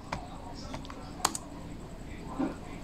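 Keys on a Lenovo laptop keyboard click sparsely, a few light taps and one sharper press over quiet room noise, with a person talking softly nearby.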